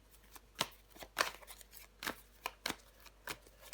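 Tarot cards are laid down and handled on a table, a series of soft, irregular slaps and sliding flicks spread over a few seconds, close and quiet with no talking.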